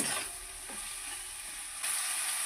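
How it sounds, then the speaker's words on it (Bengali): Grated garlic sizzles in hot oil for achari chicken, a steady close frying hiss with no talk, briefly louder near the end. "রসুনটাকেও দিয়ে দিলাম চারি চিকেন রান্না করছি সব গ্রেট করে দিয়ে রান্না করবো এটাকে একটু ভাজা ভাজা করে দেবো"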